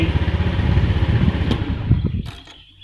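A Honda Beat motor scooter engine idles with a close, steady low putter, then winds down and stops near the end as light clicks follow.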